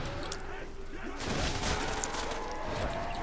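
A Browning machine gun fires a dense, continuous stream of shots in a zombie shooter game, with the volume steady throughout and a burst of crashing noise partway through.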